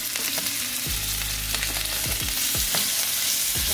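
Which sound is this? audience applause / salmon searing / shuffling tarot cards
salmon searing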